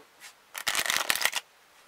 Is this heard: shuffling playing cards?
yes